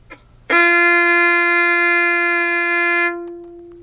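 A single sustained bowed violin note, F natural, clear and steady for about two and a half seconds before it stops.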